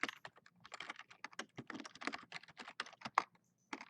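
Quick, close clicking of keys on a computer keyboard, an irregular typing patter of distinct taps that pauses briefly before a final keystroke.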